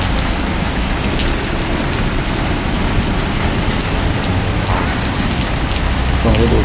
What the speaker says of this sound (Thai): ต้องหลบฝน